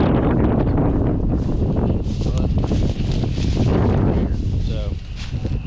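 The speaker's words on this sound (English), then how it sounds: "Just as windy here." Strong wind blowing across a lake on a bass fishing trip, loud buffeting roar hitting the microphone, gusting unevenly, with a voice talking briefly beneath it.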